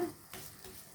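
A banana adai cooks in oil on a pan after being flipped, with a soft, steady sizzle, quiet and close, and a slight swell partway through.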